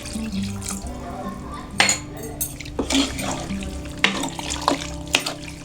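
Water is poured and splashed into a cooking pot in a home kitchen, mixed with clinking utensils and pan knocks in irregular bursts, with a voice heard faintly.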